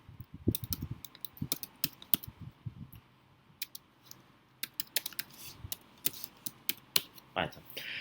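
Rapid keystrokes on a computer keyboard while writing out Python code, irregular bursts of sharp clicks with short pauses, close and fairly quiet, with no talking.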